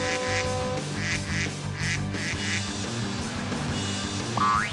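Cartoon ducks quack loudly in quick repeated bursts over a busy animated music bed, with a rising whistle-like effect at the end.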